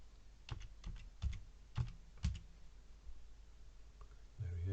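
A client's name is typed on a computer keyboard, a short burst of quiet, close key clicks in an uneven rhythm over a faint room hiss, with a brief rustle at the end.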